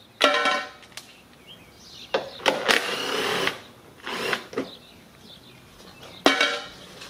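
Mechanic's tool work on a Lincoln MKX front grille, removing bolts with a 10 mm socket: several separate bursts of metallic clicking and ratcheting, close and fairly loud, broken by short pauses, with no talking.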